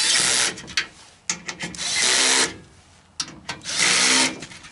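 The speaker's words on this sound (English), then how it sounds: "Run these in with the drill." A power drill with its clutch on setting 1 drives screws for a step installation on a Ford F250, whirring in three bursts, each spinning up and then cutting off with a click, with short quiet pauses between runs.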